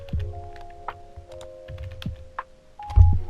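Light keyboard typing at a computer during Minecraft play, scattered soft key clicks in short irregular bursts with a heavier thump near the end, fairly close and without talk.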